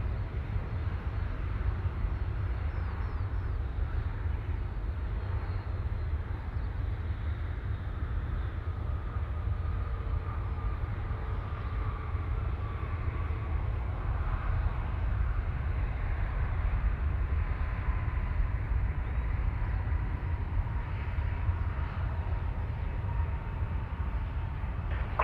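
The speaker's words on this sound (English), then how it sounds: "Jetstar 786, runway 34 right. Clear for takeoff." A Jetstar airliner takes off from runway 34 right at Sydney Airport, giving a steady, broad jet roar with a deep rumble that holds for the whole stretch, heard from some distance and unbroken by talk.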